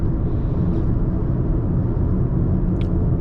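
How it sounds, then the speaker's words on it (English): Inside a 2018 Audi A3 Sedan 2.0 TDI with manual gearbox while driving, a steady broadband rush of wind and road rumble fills the cabin, constant and fairly loud. "What I don't like for the A3, it's that you hear the wind outside"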